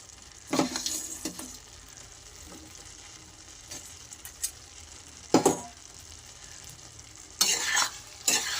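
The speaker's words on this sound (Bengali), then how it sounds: "এবার আমি ভাজা লটু শুটকিগুলো এর ভিতরে দিয়ে দেব" Fried lotte dried fish goes into bubbling water in a pan of vegetables and is stirred, with sharp bursts of sizzle and hiss and scraping utensil strokes between quieter stretches of low bubbling.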